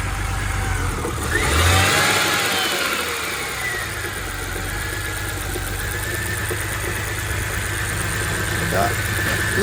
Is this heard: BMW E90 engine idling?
yes